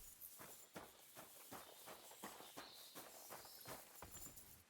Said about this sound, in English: That's just some guy's horse, man.